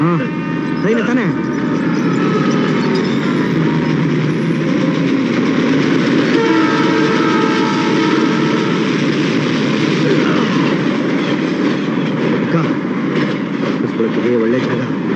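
A train rumbles past in a rural Kannada film setting, a continuous loud roar holding for the whole stretch with faint horn-like tones in the middle, while people talk over it.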